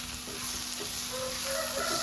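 Ivy gourd frying in a pan as it is stirred, a steady close sizzle with soft scraping of the spoon.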